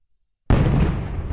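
A single loud shot from a Winchester Model 21 double-barrelled shotgun in the World of Guns game bursts abruptly out of silence, followed by a dense, sustained roaring tail that stays strong to the end.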